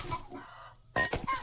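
Hens in a video game hen house give short clucks, then a louder, more sustained squawk near the end, clear and close with no speech.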